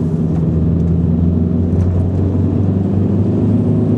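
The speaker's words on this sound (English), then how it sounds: "Oh man, I love that turbo whistle. I love these TDI engines." A 1998 VW Sharan MK1 with the 1.9 TDI diesel engine runs steadily, a continuous loud low drone heard close up, with a faint turbo whistle over the engine hum.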